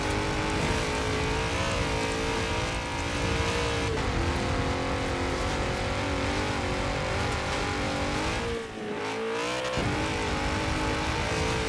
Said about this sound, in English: Such a strong engine, so good.